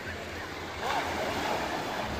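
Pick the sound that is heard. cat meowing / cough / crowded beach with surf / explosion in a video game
crowded beach with surf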